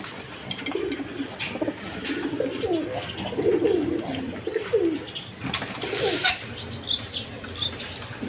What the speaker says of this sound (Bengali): দর্শকবৃন্দ এখানে এক পেয়ার ডেনিশ কবুতর দেখেন